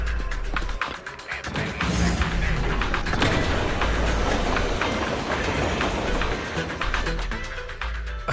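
A train moving in the video game Zenless Zone Zero, with a loud, steady rumble of rolling wagons, rhythmic clickety-clack, and occasional low thumps running the whole time.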